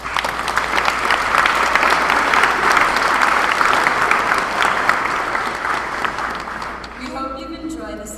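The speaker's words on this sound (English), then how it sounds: "Let's give them a huge round of applause for their performances this evening." An audience claps for a school drama club's evening performance at a winter show, dense hall applause that swells and then fades, giving way near the end to a voice starting to speak.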